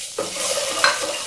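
Pomfret fish being stirred with turmeric in a frying pan, a steady sizzle of hot oil with a scrape of the spoon partway through, close and fairly loud with no talking.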